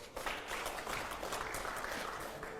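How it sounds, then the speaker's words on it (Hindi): Audience applause played in at a televised political yes-or-no question round, a continuous burst of clapping of moderate level that keeps on evenly throughout. "अगले सवाल के लिए जोरदार तालियां हो"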